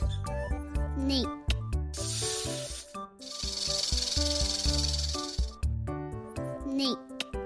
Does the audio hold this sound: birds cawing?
no